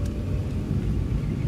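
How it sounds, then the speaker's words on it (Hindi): Steady low engine rumble inside a Renault Kwid automatic while it drives, a continuous close drone with road noise and no talking. "अब रेस देते हैं, तो इतनी इंजन नॉइस भी है थोड़ी गाड़ी में"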